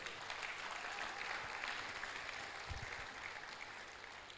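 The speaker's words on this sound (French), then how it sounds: "Applaudissez pour elle." Steady clapping from a church congregation after a prayer, sustained and fairly even throughout, with a low hum underneath.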